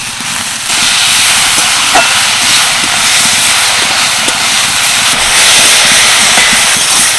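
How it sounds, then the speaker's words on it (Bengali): Grated potato, chopped carrot and tomato hit hot oil seasoned with cumin seeds, bursting into a loud, sustained sizzling hiss after a brief moment and crackling steadily close by, with no talking. "এবার দিয়ে দেবো গ্রেট করা আলু গাজর কুচি টমেটো কুচি আমি সব কিছু একসাথেই দিয়ে দিচ্ছি"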